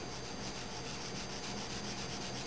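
A pencil rubs steadily across paper while a wildebeest's leg is darkened with shading, a soft continuous close scratching with no talk.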